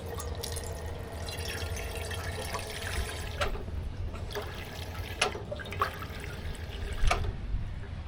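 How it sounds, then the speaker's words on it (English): Water trickling and dripping steadily from a dog drinking fountain in a park, a faint, continuous splashing with a few louder drips, heard at low level with no talk. "Here we have a water fountain for dogs."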